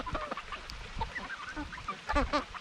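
A flock of chickens on a small farm, close, layered clucks and short honking calls overlapping in an uneven stream, moderately loud with a busy outdoor background and no talk.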